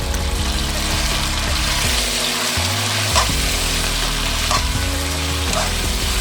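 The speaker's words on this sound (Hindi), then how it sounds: "अब इसे तेज़ आंच पर 1 मिनट के लिए भूनेंगे।" Afghani chicken fries on high heat in a pan, giving a loud, continuous close sizzle with bursts of stirring and scraping and a steady low hum underneath.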